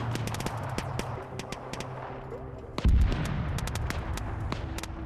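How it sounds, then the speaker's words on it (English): In the military shooter game Squad, an airstrike hits amid scattered rifle and machine-gun fire. A heavy, booming blast lands near the middle, followed by continuing crackling shots and rumble, with no talking. "That was another airstrike coming in on these guys"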